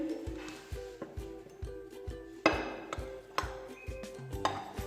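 Flour and baking powder for a stovetop fruit tea cake batter are mixed in a bowl, with a spoon tapping and clinking against the side in a fairly regular rhythm, quiet and close, with no voices.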